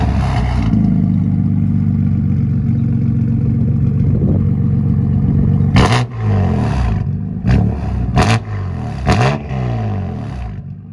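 A BMW M4 tuned to 850 hp starts with a sharp burst, then idles with a deep, loud rumble before several aggressive revs ring out in quick successive blips, heard up close with no talking.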